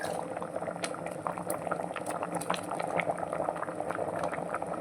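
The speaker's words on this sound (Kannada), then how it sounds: "ಸ್ವಲ್ಪ ಕುದಿಸುವ." A curry of brinjal and prawns with coriander leaves simmers in a pot on a gas stove, giving a continuous soft bubbling and popping that stays steady and fairly quiet throughout.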